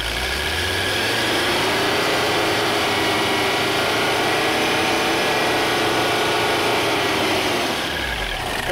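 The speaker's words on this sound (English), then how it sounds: "Let's see how responsive she is. Not very, but it is also a turboed 5-cylinder diesel." Turbocharged five-cylinder diesel engine of a 1985 Mercedes 300CD, a steady loud drone rising slowly in pitch as it revs, then easing off near the end, with no voices.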